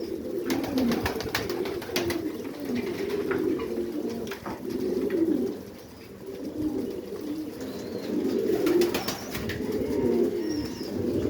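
Pigeons coo steadily in low, throaty rolling calls, several birds overlapping close by, with a few faint chirps above.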